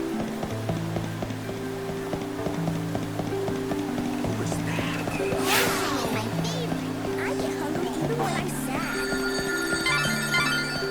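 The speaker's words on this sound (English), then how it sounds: "The phone again?" A telephone rings in the Final Fantasy XIII Lightning Returns video game, repeated trilling rings over a soft music bed, with a brief rustling burst midway and a voice speaking.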